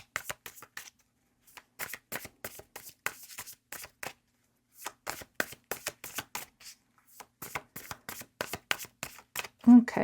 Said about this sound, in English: but I'm going to shuffle them a little bit more.